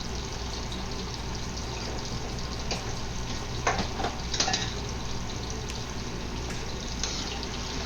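Steady, dense sizzling of eggplant deep frying in oil in a wok, continuous and fairly loud, with occasional crackles and pops rising above the hiss.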